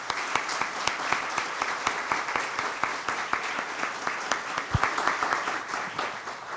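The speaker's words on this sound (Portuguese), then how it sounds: "Gostaria de pedir uma salva de palmas a eles." An audience applauds the panelists at a debate panel on blockchain and tax administration, a steady patter of many hands clapping at moderate volume from across the room, without talk.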